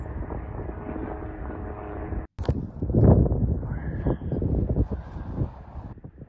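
A light aircraft, a Tecnam, drones steadily through a quick circuit of the airfield pattern, its engine tone continuous and fairly loud with wind rush, briefly cut out once midway.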